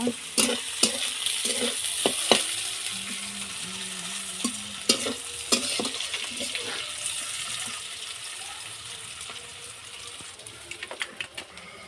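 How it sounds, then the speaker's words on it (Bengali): Onions sizzle in a pan while a utensil scrapes and stirs in irregular clicks and knocks, fairly quiet and close, with no talking. "পেঁয়াজগুলো লাল লাল করে ভেজে নেব।"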